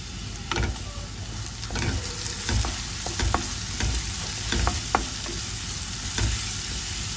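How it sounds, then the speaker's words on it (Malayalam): Chopped ginger, garlic and green chillies frying in hot oil while being stirred, a steady close sizzle with scraping spoon clicks throughout and no voices. "എണ്ണ ഒന്ന് ചൂടായി വരുമ്പോഴത്തേക്ക് അതിലേക്ക് ഇഞ്ചി, വെളുത്തുള്ളി, പച്ചമുളക് ചെറുതായിട്ട് കൊത്തി അരിഞ്ഞിട്ട് ചേർത്ത് കൊടുക്കുക"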